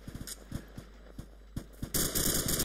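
Gunfire in the ArmA 2 military game, an ambush training exercise: a string of sharp shots at an uneven rapid pace, then a dense, louder burst of firing near the end.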